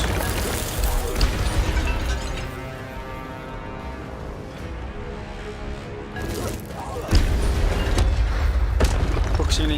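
An Incendio fire spell is cast in Hogwarts Legacy, giving booming bursts and crackling, mechanical clatter that run for several seconds with a strong thump near the end, while a voice talks over it.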